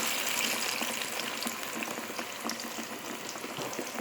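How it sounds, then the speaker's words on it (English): Plantain frying in a pan for a Nigerian breakfast gives a close, steady crackling sizzle with constant small pops, running unbroken throughout with no voices. "you don't want the plantain to start burning before it is fried"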